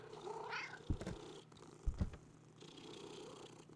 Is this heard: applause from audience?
no